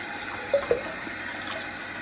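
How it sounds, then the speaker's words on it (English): Running tap water hisses steadily, with a couple of soft splashes as water is scooped up, fairly quiet and without talking. "I wash my face twice with warm water and twice with cold water"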